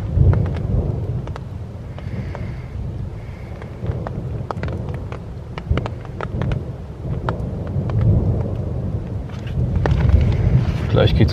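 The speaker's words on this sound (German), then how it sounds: "Das Gewitter war doch ein bisschen heftiger" A thunderstorm with hail sweeps over a forest during an overnight stay, bringing steady heavy rain and wind under a deep, continuous rolling rumble of thunder, with scattered sharp drop impacts throughout.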